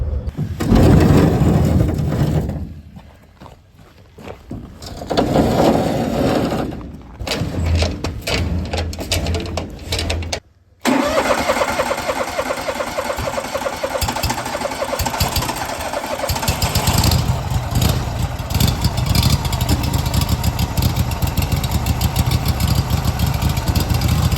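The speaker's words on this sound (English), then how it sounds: "Let's see if we can get the auger going." A small ice auger engine on a frozen Saskatchewan lake in winter, cranked into a sputtering start, dropping out briefly, then catching and running at a loud, steady buzzing rev close by.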